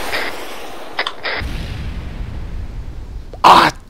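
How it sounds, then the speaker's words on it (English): Gunfire in the ARMA 3 military video game: a few sharp reports near the start, then a louder close burst near the end over a low rumbling background, with no speech. "I'm firing."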